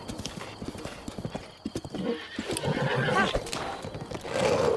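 A horse in Breath of the Wild clip-clops at speed across a bridge, rapid hoofbeats up close followed by loud whinnies and snorts, with some voice mixed in.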